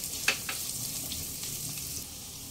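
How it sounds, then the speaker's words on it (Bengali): Chopped onion, ginger and garlic frying in oil over a medium flame, a soft steady sizzle with a few brief stirring scrapes, close by and with no talking. "মিডিয়াম ফ্লেমে পেঁয়াজ আদা রসুন 1 মিনিট ভেজে নেওয়ার পর"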